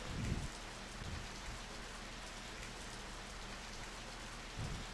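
Rain falls in the video game Radiant Historia as a steady, even hiss with a couple of soft low rumbles near the start and end, continuous and fairly quiet with no talking.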